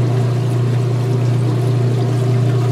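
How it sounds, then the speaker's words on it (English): Water from a washing machine drains down a drain pipe with a steady rushing, gurgling flow over a constant low motor hum, close and unbroken. "Hear all the water going down the drain pipe?"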